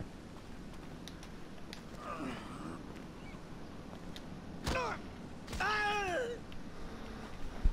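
A domestic cat gives two or three clear, drawn-out meows close by, the last one the longest, against a quiet steady backdrop of game sound.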